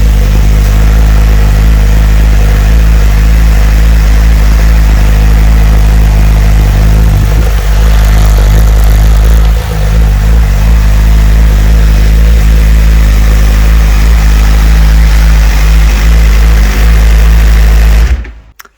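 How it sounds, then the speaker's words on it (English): Suzuki GSX-R 1000 sport motorcycle on its stock muffler, cold-started and idling loudly and close for about eighteen seconds with a steady deep rumble and a few small throttle blips, cutting off abruptly at the end. "stock muffler, cold start."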